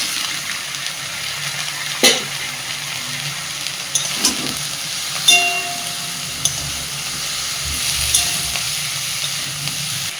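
Shrimp fry in a pan with cut bichhe kola, a steady close sizzle and hiss throughout, punctuated by several sharp scrapes and clacks of a spatula stirring against the pan.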